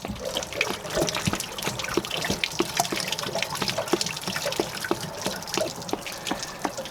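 Water draining from the hot water heater tank of a full-time RV: a continuous close splashing trickle with irregular drips and gurgles, steady throughout.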